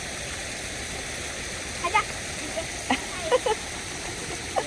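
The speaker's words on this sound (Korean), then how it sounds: "물소리 들었어?" Water flowing down a channel in a stream-like rush at an apartment central plaza on a rainy day, a steady broadband wash throughout with a few brief clinks and a short spoken word over it.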